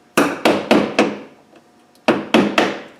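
A hammer taps a homemade punch, made from an old screwdriver, to drive a rivet out of a Land Rover Defender footwell panel: four sharp metallic blows, a pause, then three more, close and loud.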